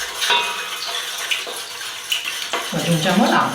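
Rock alum, up to 20 grams, being stirred into water to dissolve it as a mordant for dyeing wool with beans: uneven clinks of a utensil against the container and soft swishing water, several sharp knocks, loudest near the end.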